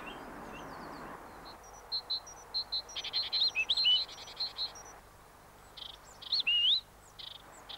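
Small birds chirp at a feeding board, delivering a run of clear, high repeated tweets and warbling calls in short bursts, close by, over quiet outdoor background, with no speech.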